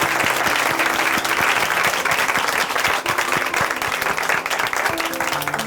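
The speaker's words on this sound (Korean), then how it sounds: "박수로 함께 응원해 드리도록 하겠습니다" An audience at a Christian testimony program on Korean church television breaks into steady, dense applause that fills the room for several seconds without letting up.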